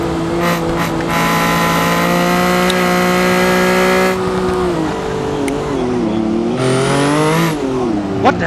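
A car engine held at full throttle in BeamNG rings out as a loud, sustained high-revving drone, its pitch steady at first, then sagging and climbing again as the revs shift.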